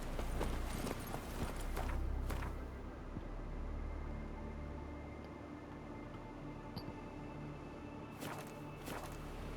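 Hooves of the horse Roach in The Witcher 3 clopping in irregular steps, fairly soft and close, with a few louder thuds and swishes near the start and end.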